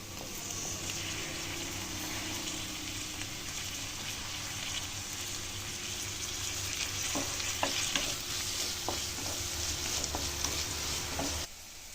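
Garlic and tomato fry and get stirred in a pan for black chickpea curry, a steady sizzle running throughout with scattered scraping clicks of the spoon toward the end, close and with no talking.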